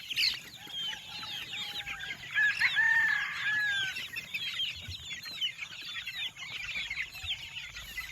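Chickens cluck steadily on a farm, including a brooding hen, while a rooster crows loudly in the middle of the clucking.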